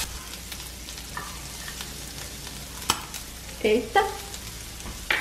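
Bacon frying in a little olive oil, an even sizzle with a sharp knock and a few brief clattering bursts near the end, plus a short spoken exclamation.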